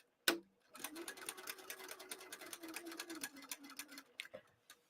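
A sewing machine back-tacking stitches while constructing an Mkoba bag: one sharp click, then a steady rapid mechanical whir of stitching for about three seconds, a brief pause and a couple of short final bursts, close and alone.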